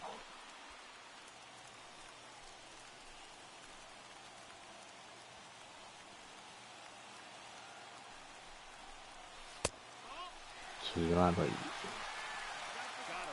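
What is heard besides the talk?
baseball stadium crowd cheering in video game MLB The Show 21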